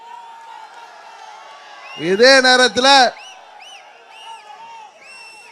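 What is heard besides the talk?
crowd cheering at an election campaign rally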